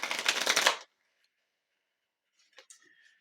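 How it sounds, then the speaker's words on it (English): Dollar-store playing cards riffle in a brisk, close shuffle-like burst lasting under a second, then after a pause come soft, faint handling clicks and slides as they are laid out. "we'll go ahead and lay a couple of these, what I like to call my basic cards"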